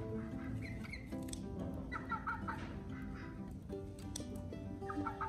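Chickens clucking and squawking in a coop while their wings are clipped, repeated agitated calls and gobble-like cries over a steady background hum, with no talk.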